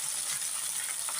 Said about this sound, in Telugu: ఆ నూనెలో మనం కడిగి పెట్టుకున్న గోంగూర మొత్తం ఈ విధంగా వేసుకోవాలి